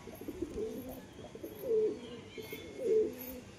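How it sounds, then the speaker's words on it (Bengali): Two pigeons that have just landed at a house coo softly in repeated low throaty phrases, close by and fairly quiet, with a couple of stronger swells in the calls. "এই যে কবুতর দুটো নামলো বাড়িতে"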